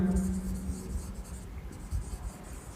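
Marker or chalk scratching and tapping on a board during a Class 12 physics lecture on electric potential, with steady close strokes and brief pauses, alone and fairly quiet.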